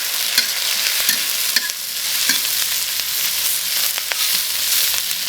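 Cured pork stir-fried with dried chilies and garlic in a wok, a steady loud sizzle and crackle with repeated scraping strokes of the spatula, close up with no talking.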